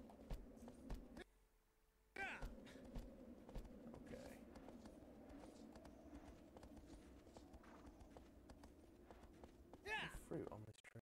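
In Shadow of the Colossus, a horse's hooves clip-clop in a steady, quiet rhythm through most of the stretch. Talk runs over the hoofbeats.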